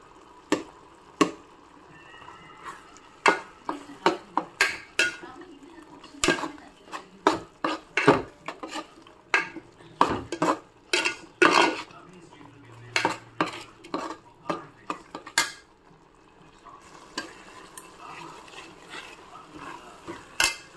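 A spoon stirs turmeric, coriander, garam masala and cumin powders into a boiling pot for paneer rice, with close, irregular clinks and scrapes against the pot. The sounds come in quick bursts and no one speaks.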